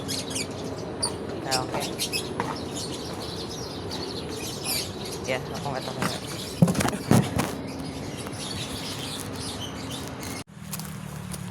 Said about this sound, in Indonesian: Ada burung pipit. Burung lovebird.